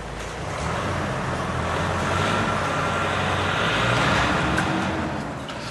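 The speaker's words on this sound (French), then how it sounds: "Et maintenant, les camions de pompiers, les voilà enfin." Fire trucks roll into a fire station, a steady, moderately loud rumble of heavy vehicle engines and road noise swelling slightly toward the middle and holding throughout, with no voices.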